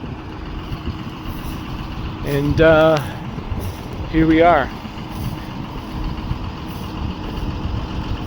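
A 1995 Western Star truck, an older farm hauler, idles with a steady low diesel rumble throughout, while someone speaks briefly over it.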